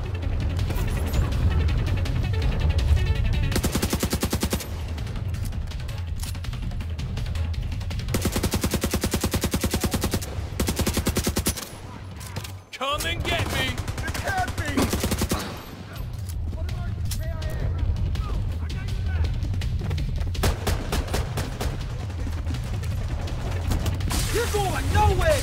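Automatic gunfire in The Division 2, long sustained bursts of rapid shots broken by brief pauses, loud and close, with combat voices shouted over it.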